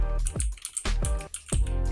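Keystrokes on a computer keyboard, typing text for a cinematic title animation, come as a few close, distinct clacks in quick bursts with short pauses between.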